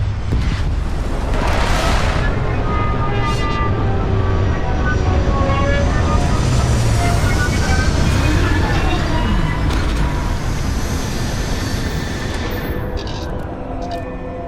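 A spaceship in the game Starfield sets down with a loud, sustained engine roar and rumbling boom that fills the whole span, with a sweeping hiss rising and falling over a heavy low drone.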